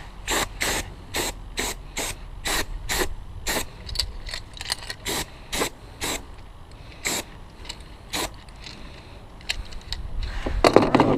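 Cleaner sprayed onto the brake of a Blade Z Moby X 26cc gas scooter in a rapid series of short, sharp hissing bursts, about a dozen close spritzes in an uneven rhythm with brief pauses between them.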